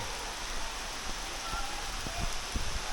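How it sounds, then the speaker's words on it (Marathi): Heavy monsoon rain in a misty jungle on a trek, a dense steady hiss of downpour with occasional nearer drops and patters, fairly faint and uninterrupted by talk. "खूप मोठा पाऊस येतो आहे"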